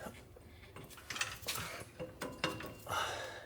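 A Ford F-series muffler and exhaust pipe slide into place with scraping metal clicks and clunks, a series of short close knocks and rattles spaced over a few seconds, fairly quiet.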